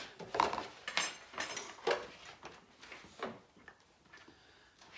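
A measuring spoon being rinsed and knocked against dishes at a sink, a string of close, bright clinks and taps that ease off toward the end, with no voices.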